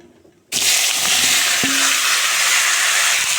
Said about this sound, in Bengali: এখন একই তেলে ফুলকপি আলু বেজে নেব